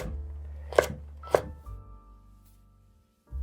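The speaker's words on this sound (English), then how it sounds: "Kind of butt them up against your knife blade like that, and then chop." Two crisp knife chops through carrots on a cutting board, close and distinct with a pause between them, followed by a low hum and a final soft knock.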